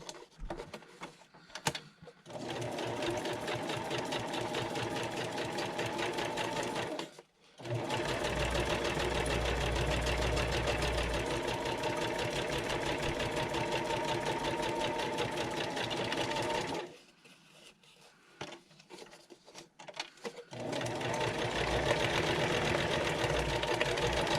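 Sewing machine stitching through leaves, running steadily and fairly loud in long bursts with brief pauses between runs, no talking over it.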